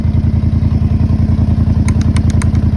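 An ATV rides a rocky trail with a loose whip light mount rattling, giving a steady rapid engine throb under loud repetitive clatter, with a few sharper metallic clanks near the end.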